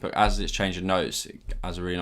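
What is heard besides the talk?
None of the usual background noises is heard.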